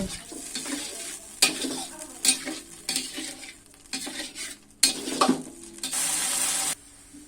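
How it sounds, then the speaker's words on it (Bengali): Fried pointed gourd is stirred into spice paste in a pan, with a sizzling fry broken by repeated loud scrapes and clanks of a spatula against the metal, spaced irregularly. "পটলগুলো মশলার সঙ্গে ভালোভাবে কষিয়ে নিব।"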